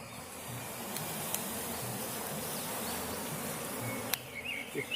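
A colony of Apis cerana honeybees buzzes steadily inside a coconut husk, a dense continuous hum heard close and alone, with a few faint clicks and knocks over it.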